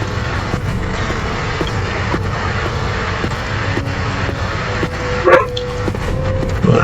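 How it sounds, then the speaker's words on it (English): Dogs barking in the dungeon crawler video game Wizardry 8: a few short, faint yips and barks spread over a steady droning ambient background, with a louder bark near the end. "Dogs."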